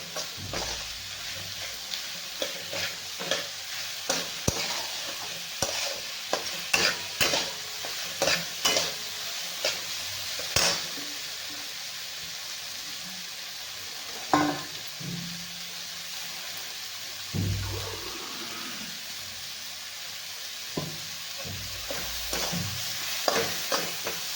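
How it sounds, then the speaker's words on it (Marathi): Whole masoor lentils sauté in hot oil in a pan, with a steady sizzle under repeated scraping and stirring strokes of a spoon, heard up close. "एक दोन तीन मिनिट आपल्याला ह्याला मसूरला परतून घ्यायचं आहे चांगला तेलामध्ये"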